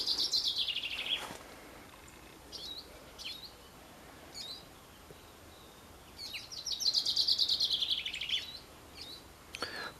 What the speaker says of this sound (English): Birds are so happy.